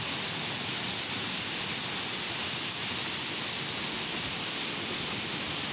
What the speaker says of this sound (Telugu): ఎంత ఫోర్స్గా పడుతున్నాయి పైనుంచి వాటర్